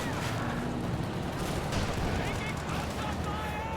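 An artillery barrage rumbles in a Company of Heroes 2 match, dense overlapping booms and crackling blasts forming a continuous heavy wash, with a voice talking over the battle.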